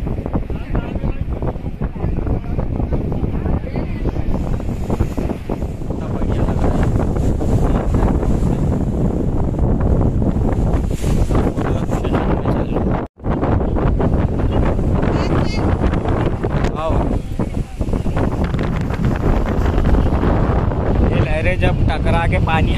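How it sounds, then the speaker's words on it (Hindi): Wind and ocean waves at the beach at Dhanushkodi, India, a loud continuous roar with heavy wind buffeting on the microphone, under almost constant talking, with one brief dropout midway. "लहरें देखो, हवा चल रही"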